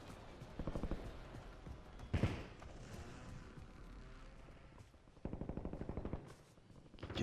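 Automatic gunfire in the Warzone battle royale game: rapid bursts of shots, one burst early, a heavy blast after two seconds, and a long burst near the end, loud and close, with no voices.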